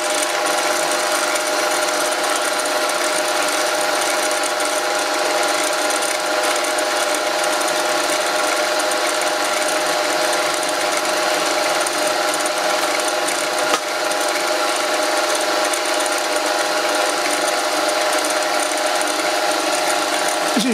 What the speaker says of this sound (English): This one I'm fly cutting.